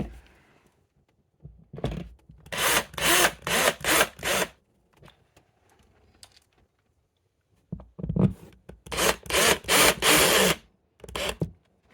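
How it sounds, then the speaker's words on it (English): Screws being driven into a wall to mount a wall heater, heard as two loud bursts of power-driver whirring in short pulses, each pulse a few tenths of a second, separated by a quiet gap, with no talking. "So I'm gonna screw these in."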